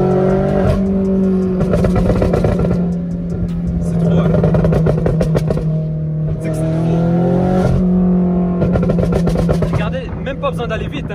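A straight-piped BMW M8 tuned beyond 800 horsepower accelerates hard, its exhaust roaring loud and close in rising and falling waves through the gears, with voices talking over the engine.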